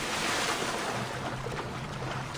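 Splashing sea surf and water from jumping overboard off a ship in Assassin's Creed Odyssey, a steady broadband wash with wind noise and no voices.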